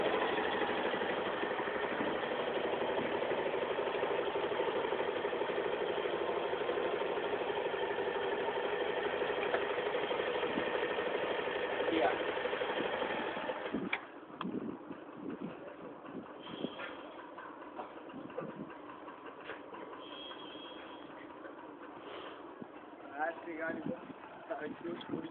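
A motorcycle engine idles with a steady, close, continuous chug that drops away about midway, as if switched off, while people talk over it and afterward.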